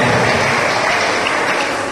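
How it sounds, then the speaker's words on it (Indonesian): A seminar audience claps, producing a dense, loud, continuous wash of hands that sounds close and fills the room throughout. "Tepuk tangan untuk Ketua Medley."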